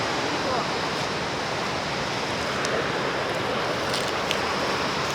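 A river flows below in a forest, heard as a steady, broad rushing wash that stays even and continuous throughout, with no voices.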